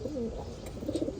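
Home-kept loft pigeons give a brief run of low, rolling coos, fairly close, over a steady background hiss.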